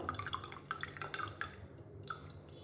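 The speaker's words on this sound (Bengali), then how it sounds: "আমি এই আইসের জলটা ঠান্ডা জলটাই দিয়ে দিচ্ছি" Ice-cold water trickles and drips into a raw mango laddu mixture, a faint close series of small splashes and droplets over a low background hum.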